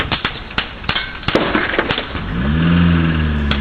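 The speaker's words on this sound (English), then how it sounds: "Numerous shots are fired and you can hear them hitting the house before the car roars off." Gunshots fired at a house, caught on CCTV, crack out as a rapid series of sharp, loud bangs, then a car engine roars and revs as it drives off.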